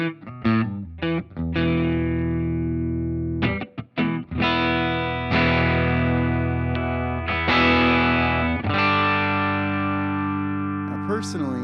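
Electric guitar played through a Line 6 Helix amp model, sustained distorted chords with a chorus-like shimmer, several short staccato stabs at the start and later long ringing notes, loud and alone.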